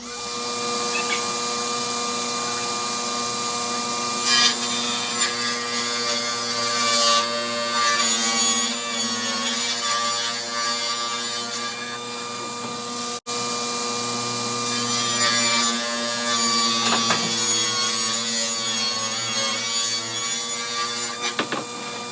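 A saw cuts steadily through wood guided along a fence in a garage workshop, a loud, continuous grinding rasp lasting throughout with slight swells in intensity and no talking.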